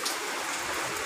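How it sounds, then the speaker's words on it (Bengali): Rain pours outdoors in Kolkata during Cyclone Remal, a faint, steady hiss of falling water with no voices, lasting only about a second. "এই যে বৃষ্টি হচ্ছে"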